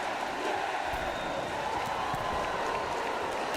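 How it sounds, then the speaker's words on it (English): Dense crowd roar and applause from a wrestling arena in the WWE2K Survivor Series game, a steady wash of cheering throughout with commentary under it. "this crowd's starting to come unglued here tonight"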